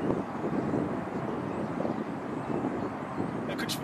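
A 49cc egg motor engine winding down on a test run, a continuous droning rumble close to the microphone with wind buffeting, fairly loud and steady throughout.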